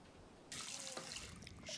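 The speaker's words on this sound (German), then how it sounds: "das Geschirr haben wir gespült" Tap water running into a sink while washing dishes in the video game Captain Spirit, a steady close rush of water that starts abruptly and continues with faint clinks.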